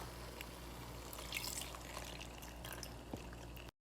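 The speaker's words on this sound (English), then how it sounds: "now you're going to add in your cream evaporated milk" Evaporated milk pours from a tin into macaroni for Bahamian baked macaroni and cheese, a faint soft trickle with a few light clinks, fairly quiet and steady before cutting off abruptly.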